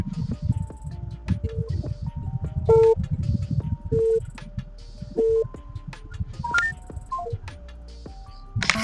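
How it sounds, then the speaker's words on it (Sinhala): A mobile phone dials out for a call, short beeping tones of differing pitch sounding one after another over rustling and handling noise, with no voices. "ඊළඟ කෝල් එක"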